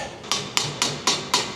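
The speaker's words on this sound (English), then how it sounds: "Might need the hammer for this one." A hammer taps a metal cover on a sheep feeder, five sharp evenly spaced knocks close by, with no talking.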